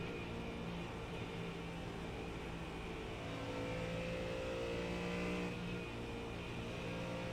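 A race car engine at Watkins Glen drones steadily from inside the cockpit, a constant loud motor hum with a faint rise as another car approaches.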